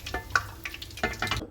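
Chicken wings fry briefly in reused hot cooking oil, crackling and popping in short irregular bursts close by.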